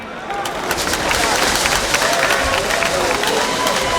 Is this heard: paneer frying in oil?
no